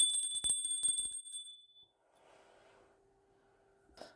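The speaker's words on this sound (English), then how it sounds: "right when I rang the bell" A bell is rung once, its bright metallic tone ringing out and fading over about a second and a half, followed by near silence with a faint low murmur and a small knock at the end.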